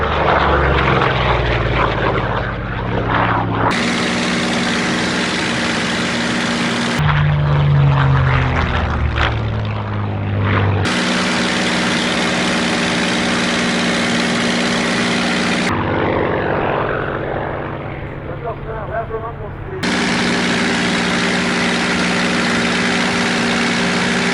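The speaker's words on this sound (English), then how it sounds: "tail chases are great because they double the time that the airplane's in front of the crowd and draw out the glorious engine noise" Loud propeller engines of a Spitfire and a Corsair drone continuously in an air-show tail chase, a deep throbbing roar that swells and shifts in pitch as the planes pass, with no talking.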